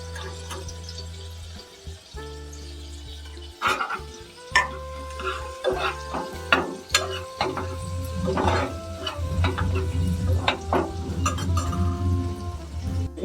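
Hing, turmeric, coriander powder, cumin powder and garam masala sizzling in hot oil over a low flame for black peas usal, with a steady fry broken by repeated clinks and scrapes of a spoon stirring against the pan.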